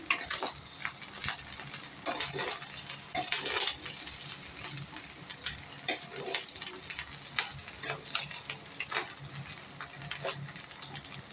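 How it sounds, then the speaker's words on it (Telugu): Egg fried rice is stirred and mixed in a hot pan, with repeated spatula clicks and scrapes over a constant close sizzle. The stirring comes in an irregular rhythm for several seconds. "బాగా మిక్స్ చేసుకోవాలి అన్నానికి మంచి పట్టాలి కదండి బాగా మిక్స్ చేసుకోవాలి"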